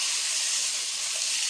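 Bacon lardons for carbonara sizzling steadily in a hot pan, a continuous bright hiss of frying fat with no talking over it.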